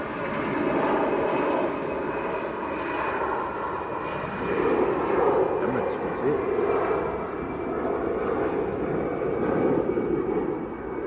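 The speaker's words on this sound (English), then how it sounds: "We've got a 777 departing" Boeing 777 jet departing Manchester Airport, a distant broad engine roar rising and falling steadily, with people talking faintly over it.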